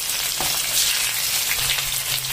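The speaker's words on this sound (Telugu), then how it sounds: "ఆవాలు చిటపటలాడే వరకు ఫ్రై చేసుకున్న తర్వాత ఇందులోకి ఇప్పుడు మనం ఆనియన్స్ యాడ్ చేసుకుందాం" Onions sizzle in hot oil with crackling mustard seeds, a dense continuous frying hiss with small pops, close and steady, no voices.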